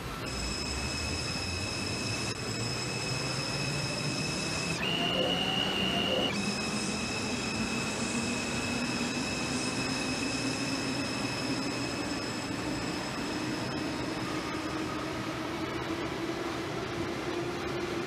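An R142 subway train in the game Hmmsim 2 pulls away after its doors close, a loud, continuous rumble with a whining motor pitch that climbs steadily as it gains speed, plus steady high tones; no voices.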